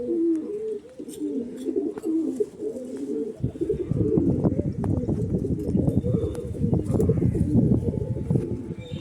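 Low, throaty coos from young female Madrasi pigeons repeat close by at a pigeon sale in Howrah, then give way to a busy scuffling and fluttering clatter that continues steadily to the end.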